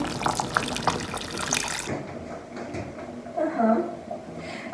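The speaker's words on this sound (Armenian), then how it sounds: "քիչ եմ ջուր ավելացնում" Water pouring steadily from a tap into a pot of chicken stew for a couple of seconds, then clinks and soft kitchen handling sounds, with a voice speaking faintly.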